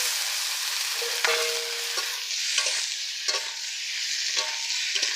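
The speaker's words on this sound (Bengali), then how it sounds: "সিদ্ধ করে রেখেছিলাম এই আলু ডুমো ডুমো করে কেটে আলুগুলো দিয়ে দিচ্ছি" Boiled diced potatoes fry and sizzle steadily in a home kitchen pan, with a metal spatula scraping and clinking against the pan several times as they are stirred.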